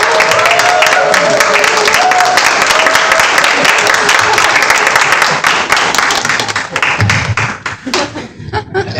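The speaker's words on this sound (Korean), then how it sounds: "이제 교수님 나오실 때 힘찬 박수로" Church congregation at a Korean sermon service applauding loudly for a professor coming forward, dense continuous clapping from a large crowd that thins out toward the end into scattered claps.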